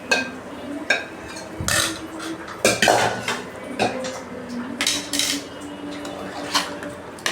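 Sautéed okra, onion and tomato go into a sambar pot, with metal spoon scrapes and clanks against the pot, irregular knocks and stirring clatter close by, alone without talk.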